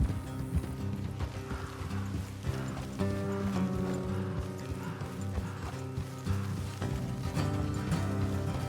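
Clip-clop of horses on a road in Red Dead Redemption 2, steady hoofbeats under layered game music and ambience, moderately quiet and continuous throughout.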